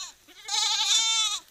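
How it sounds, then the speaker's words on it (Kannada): A goat kid and sheep give a short, close bleat, wavering and nasal, on a village farm, rising and then fading away within about a second and a half. "ನಮ್ಮ ಮೇಕೆ ಮರಿ ಕುರಿಯ ಬಂದು ಮಂಗೆ ಆಗ್ಯಾವ ರೀ."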